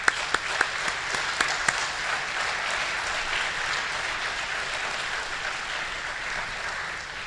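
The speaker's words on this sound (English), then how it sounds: "Give them a round of applause." An audience at a school ceremony applauds students and teachers, starting with a few sharp, distinct claps before settling into sustained, even clapping that continues for about seven seconds and slowly fades.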